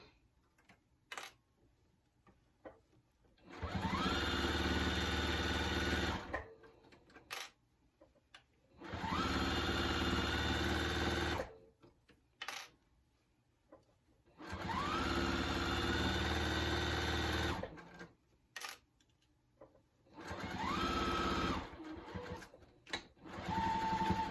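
A sewing machine stitches an XL tote bag in three long steady bursts of close mechanical whirring, separated by quiet pauses with small handling clicks and rustles.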